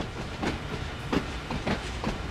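A train in a Boston–Worcester train video game runs along the rails with a steady rolling rumble and faint rhythmic clicks from the wheels, heard alone at moderate volume.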